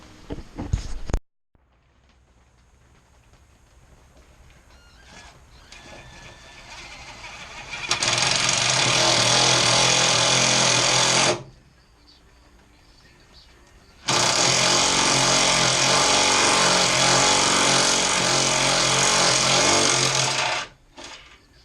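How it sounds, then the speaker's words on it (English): A power drill whines loudly in two long sustained bursts drilling holes in a race car hood, separated by a quiet pause, close by, with faint mechanical noise in between. "But here's to drilling more holes, I guess."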